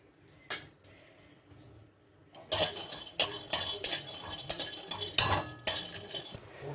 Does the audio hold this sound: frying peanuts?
yes